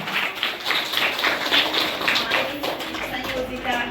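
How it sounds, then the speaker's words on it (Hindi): Applause at a school retirement ceremony in a warm room: a crowd claps in quick, uneven bursts that build and hold for about four seconds, with voices mixed in. "जोरदार ताली बजा दें।"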